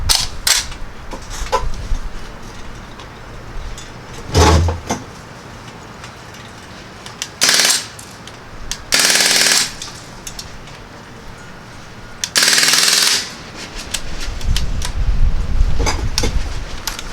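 Crosman R1 full-auto CO2 air rifle firing in several sharp bursts of rapid shots, each burst lasting about a second, separated by quieter handling and mechanical clicks, fairly close and loud.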